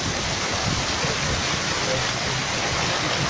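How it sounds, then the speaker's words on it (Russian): Steady, dense downpour in Yekaterinburg, a constant hiss of drops on surfaces with no pauses, loud and close. "Первый такой дождик."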